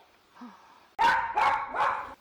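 A dog barks three times in quick succession, loud and close, after a faint whimper.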